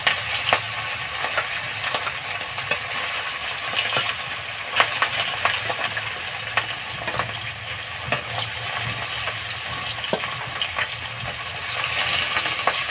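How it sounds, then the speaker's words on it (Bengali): Fish frying in oil in a wok, a steady dense sizzle with light crackle and occasional sharp pops from the oil, loud and close and continuing throughout without voices. "তেল দিয়ে আমি মাছগুলো খুব সুন্দর করে লাল লাল করে ভেজে নেব।"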